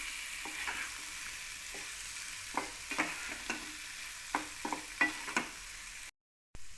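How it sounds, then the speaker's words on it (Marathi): Boiled drumstick pods stirred in a frying pan, a gentle sizzle under repeated scraping and clacking strokes of the spatula, close and alone, ending in a brief gap of silence. "आता यात या उकडलेल्या शेंगा टाकून घेऊयात. मिक्स करून घ्यायचं व्यवस्थित."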